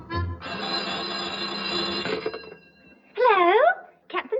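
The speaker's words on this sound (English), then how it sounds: "the phone rings, you never know who's going to be on the other end" An old telephone bell rings in a 1963 naval radio comedy: one sustained burst of bright, clanging rings, then a short pause before a voice speaks.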